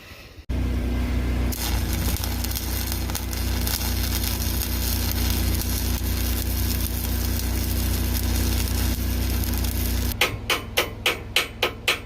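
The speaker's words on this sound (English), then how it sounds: "I am just going to fire up the Bobcat, let her breathe a little bit" A Bobcat skid steer's engine cranks and catches, then settles into a steady, loud diesel idle close by with a constant low drone, ending in a few rhythmic knocks.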